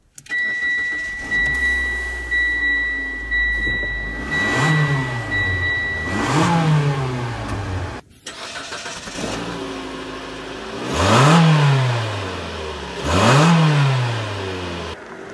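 A 2013 Mitsubishi Outlander accelerates on a test drive, its engine rising loudly in repeated revving sweeps with dips between gear changes across two stretches of driving, heard from close by with no voices.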